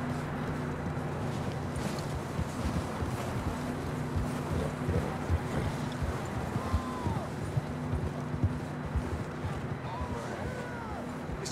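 In the video game Red Dead Redemption 2, horse hooves clop steadily on the trail under wind noise, while characters talk over the riding.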